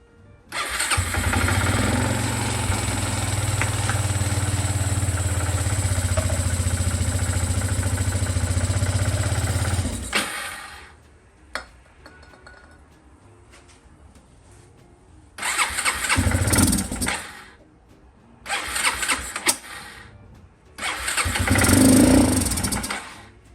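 An Aprilia Leonardo 300 scooter with a Yamaha engine, recently revived from not starting and being cleaned with carb cleaner, starts and idles steadily for about ten seconds, then falls quiet before a few short loud bursts of engine noise.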